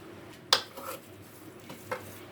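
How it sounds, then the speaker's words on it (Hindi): Sweet vermicelli zarda being stirred in a pot with a dash of rooh kewra, a few sharp utensil scrapes and clinks standing out over soft background stirring noise, close and fairly quiet. "मैं अब इसको मिक्स करूँगी आपके सामने"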